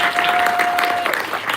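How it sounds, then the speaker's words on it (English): A university panel audience gives a short burst of dense, steady applause, a continuous crowd clapping texture with a faint steady tone running underneath. "Can we get a round of applause?"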